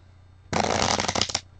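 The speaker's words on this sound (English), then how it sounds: "Now what you're going to do is you're going to shuffle them." A deck of cards riffle-shuffled once up close, a loud burst of rapid flicking that lasts about a second against a quiet hum.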